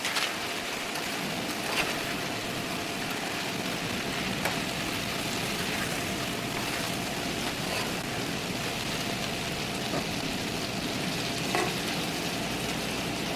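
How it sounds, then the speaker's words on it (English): Chicken and mushrooms sizzle and fry steadily in a pan with sauce, occasional soft scrapes of stirring audible over the continuous hiss, close and moderately quiet. "And then you're just gonna give it a good stir."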